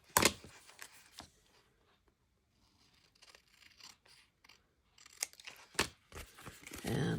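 Scissors trimming paper for scrapbooking envelopes, a few sharp snips near the start and again toward the end with soft paper rustling and handling noises between, close and quiet with no talk.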